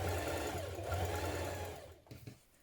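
A sewing machine understitches a trouser pocket seam, running in a fast, close, even whir that slows and stops at the end.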